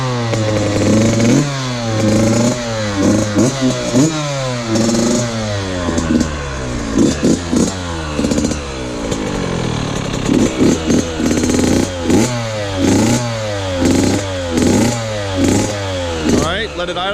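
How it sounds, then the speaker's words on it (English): A Yamaha YZ65 dirt bike with its stock exhaust revs repeatedly, its small two-stroke engine rising and falling in sharp, buzzy blips over an idle, loud and close, with voices now and then. "let them rev it so you can just hear the sound of it stock"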